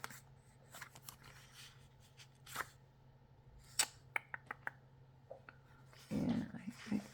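Scissors cutting paper up close, with sparse soft snips and rustles, a few sharper clicks, and a louder rustling burst near the end.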